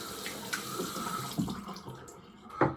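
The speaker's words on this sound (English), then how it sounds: "Run it under some water, drip, drip, drip." Tap water runs steadily over a synthetic shaving brush, a close, continuous splashing hiss with a few brief louder spatters and no talk.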